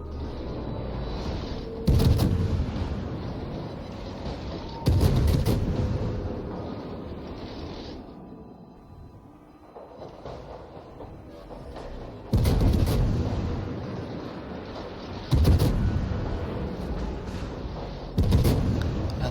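Warship guns in World of Warships fire heavy, booming salvos in the distance. Sharp blasts land every few seconds over a constant low rumble of engine and sea, easing briefly in a quieter stretch midway.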